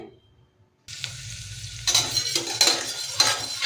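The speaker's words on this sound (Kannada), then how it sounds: "ನೋಡಿ ಈರುಳ್ಳಿ ಸ್ವಲ್ಪ ಫ್ರೈ ಆಗಿದೆ" Chopped onions fry in hot oil in a pan for mint pulao. A short silence gives way to steady sizzling, then louder bursts of stirring and metal spatula scrapes near the mic.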